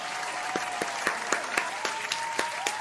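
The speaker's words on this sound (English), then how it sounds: "Big round of applause for Ayorichie" A game show audience applauding steadily, dense clapping with a few sharper claps standing out, moderately loud and close, with no talk over it.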